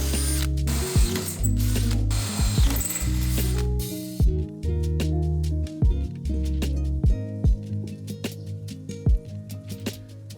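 A tap cuts threads into drilled holes on a custom gas tank for a turbo mini jeep, making repeated ratcheting clicks in short bursts. A buzzing drill runs at first, then gives way to sparse, close ratchet clicks.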